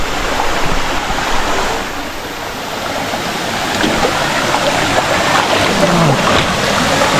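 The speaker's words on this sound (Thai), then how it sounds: "อันนี้เราอยู่ที่น้ำตกชั้น3แล้วนะครับ" Rushing water at the third tier of Chantathen waterfall in the rainy season, a loud continuous roar of falling and churning water close by, steady for the whole stretch with no voices.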